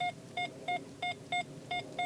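XP Deus II metal detector on its medium tone profile, giving a series of evenly spaced, squarish electronic beeps, about six short tones at a steady rhythm, clear and close with no talking.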